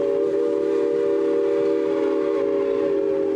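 A steady, sustained whistle-like tone holds over a continuous mechanical rumble from the Essex Steam Train, loud and unbroken throughout, with no voices.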